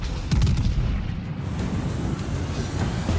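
A heavy gun broadside fires from the battleship USS Missouri in the naval combat game World of Warships, a deep booming blast with rumbling low-end that lingers under continuous game background noise.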